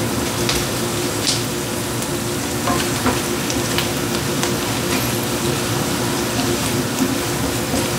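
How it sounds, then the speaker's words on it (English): Mushrooms and onions sauté in butter in a pan, a loud, continuous sizzle broken by the scrape and clatter of stirring, with no talking. "you want to get these mushrooms, these onions moved around and all that good butter"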